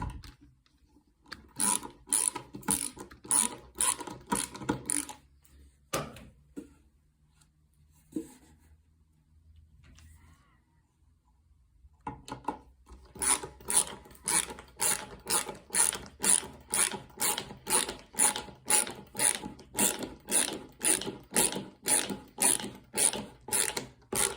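Screws are driven into a wooden nesting box with a ratcheting action. Close, crisp clicking comes in quick rhythmic runs, a short burst first, then a pause with faint knocks, then a longer steady series of clicks.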